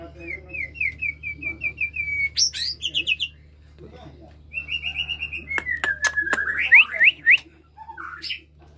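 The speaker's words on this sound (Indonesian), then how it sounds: "Dia ini nggak mau dilihat langsung kalau bunyi, karena memang burung ini liar sekali." A white-rumped shama (murai batu) sings a run of loud, clear whistled phrases with chirps and fluttering trills. The song comes in two bursts with a short pause between them, over a low steady hum.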